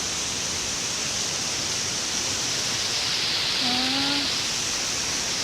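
Tagbanakaw Falls pours as a loud, steady, broadband rush of water that fills the whole scene, with a brief faint voice-like tone rising above it.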